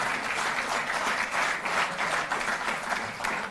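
Loud, sustained applause from a large audience honouring national and international athletes at a government felicitation ceremony, a dense steady roar of clapping with no break throughout.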